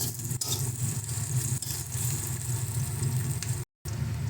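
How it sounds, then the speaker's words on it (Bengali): Onion frying in a pan for a duck egg curry, a continuous close sizzle with steady crackle that briefly cuts out near the end, no talking. "দেখো পেঁয়াজটা ভাজা হতে হতে"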